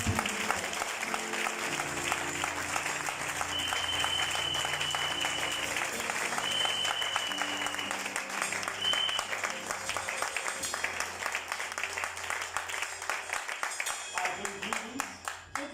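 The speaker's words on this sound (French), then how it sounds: "Let's put our hands together" Congregation applauding during a French-English church service, steady sustained clapping filling the room over music, tapering off near the end.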